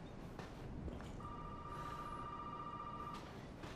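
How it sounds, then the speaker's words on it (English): A telephone rings in the Resident Evil 7 video game, a steady sustained electronic ring tone lasting a couple of seconds over a quiet, murky ambient background. "I hear a phone."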